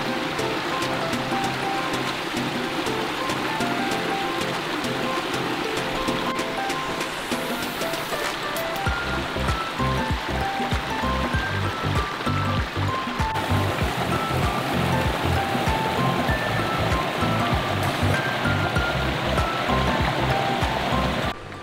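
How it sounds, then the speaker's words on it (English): Water from a pondless waterfall in a home's front yard runs and splashes steadily throughout, a continuous close rushing wash with no talk over it. "they've got this beautiful pondless waterfall out in the front"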